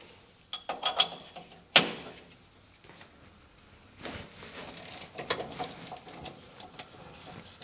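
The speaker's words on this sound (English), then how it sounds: "I assume we're going to have to undo this bolt down here as well." Ratchet clicking while undoing a bolt on a Deutz 6006 tractor: short bursts of metallic clicks and clanks, some sharp transients, then softer, steady ratcheting, close and moderately loud with no talk.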